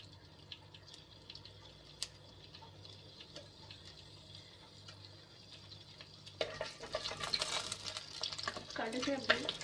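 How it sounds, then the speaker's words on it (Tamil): Mustard seeds sputtering in hot oil while tempering for thattaipayaru kulambu, with quiet steady frying that turns into denser crackling and popping near the end, close, under a faint voice. "கடுகு அப்படி தாளிச்சாச்சு."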